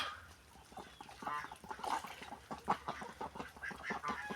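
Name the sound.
ducks quacking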